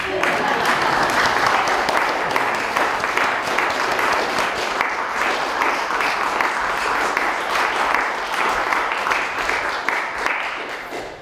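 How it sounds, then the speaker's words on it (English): An audience applauds at a Christmas festival performance: dense, steady clapping sustained for about eleven seconds and easing slightly at the end. "you can clap now."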